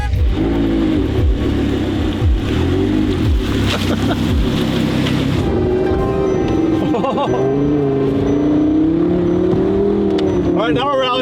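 Supercar driving off-road on a slippery, snowy closed rally course, engine revving and rising and falling steadily throughout, with people talking over it.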